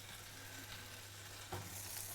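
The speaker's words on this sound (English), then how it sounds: "You can hear that some of the cheese is oozing out." Cheese naan sizzles in a hot pan with a steady, soft frying hiss as cheese oozes out, with a brief louder crackle partway through.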